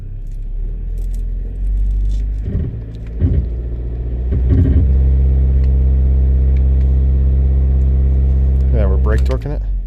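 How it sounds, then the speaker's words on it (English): A 2006 Volkswagen Passat 2.0T engine with a turbo boost sensor fault idles, then revs in gear against the brakes into a loud sustained rising drone, with brief voices over the engine early and near the end. "Yeah, we're brake torquing it."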